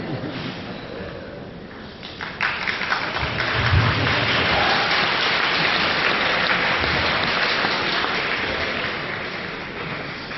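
A large audience breaks into sustained applause that builds after a couple of seconds and holds at a steady, dense roar, with no one speaking over it.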